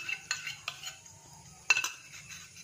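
A spoon clinks against a pot as homemade cream is added to palak paneer, giving a few sharp metallic taps spaced apart over a quiet background.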